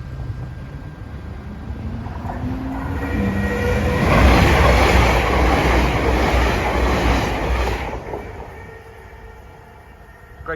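A Greater Anglia Class 720 electric multiple unit passes a level crossing at Brimsdown station in Greater London, swelling from a distant hum to a loud rushing rumble with wheel clatter before fading away.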